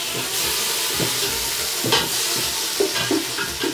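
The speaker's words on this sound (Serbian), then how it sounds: "Evo, mešam i ubacim luk." Bacon and onion fry and sizzle in a pan for goulash, a steady crackling hiss broken by repeated scraping stirs near the end, close and with no talk.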